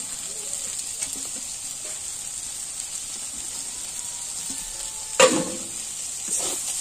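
Leafy greens (gima saag) sizzle steadily in a frying pan while being stirred, a constant bright hiss broken by a few soft scrapes and one louder clatter of the spoon near the end.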